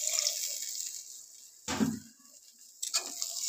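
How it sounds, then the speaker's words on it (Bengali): Water poured into a pot of tangra fish curry with potato and onion shoots, two short splashy pours a second apart, close and fairly quiet in an otherwise still kitchen. "আর একটু জল দিয়ে দিচ্ছি।"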